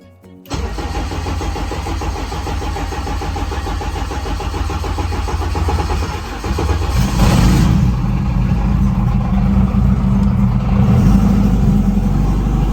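A race car engine cranks and catches on a winter day, settles into a steady mid-pitched idle, then steps up to a louder, deeper, rougher run that holds close and continuous.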